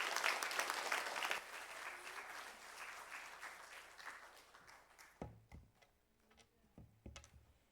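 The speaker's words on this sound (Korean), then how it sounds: "우리 큰 박수로 목사님 나오실 때 힘있게" Applause from a church congregation at a Sunday service in Wanju, welcoming the pastor to the pulpit, a fairly faint, dense round that thins out about halfway and leaves a few scattered knocks and taps.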